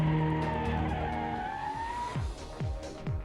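A car at a speedway performing braking and acceleration tests for an efficiency-vehicle competition, engine revving with tire skids and squeals, close and steady throughout, several sharp low surges near the end.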